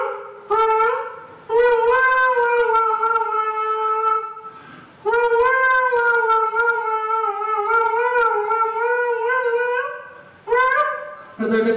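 A stage performer mimics a cat as if trained in classical music, holding long, loud, tonal sung meows with wavering pitch, about four sustained phrases separated by brief breaks, close and without other speech.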